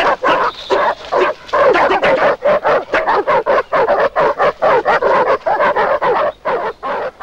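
Several dogs bark loudly and rapidly in a dense, continuous string of sharp yaps and woofs, close by and with no talk, in a scene from a 1975 Italian film.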